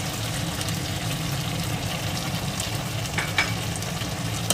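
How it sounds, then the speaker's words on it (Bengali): Schezwan chicken fried rice with fried chicken and Schezwan sauce is stirred in a pan, a steady frying sizzle with soft scraping of the spatula running throughout, close and continuous with no talk. "ভালোভাবে নেড়ে চেড়ে নিলাম"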